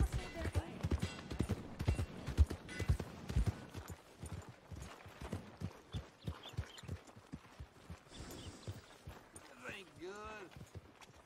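Horse hooves clip-clopping at a steady gait in the video game Red Dead Redemption II, close and rhythmic, followed by a brief whinny near the end, with someone talking over parts of it.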